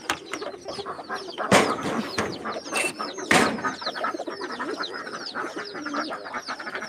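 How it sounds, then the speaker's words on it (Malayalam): Two fancy chickens cluck and call close by while being fed cooked rice, with dense, overlapping bird chatter, a couple of louder squawks, and steady background fowl noise throughout. "ഇവിടെ രണ്ട് ഫാൻസി കോഴിയുണ്ട് അതിന് കുറച്ച് ചോറ് കൊടുക്കാം"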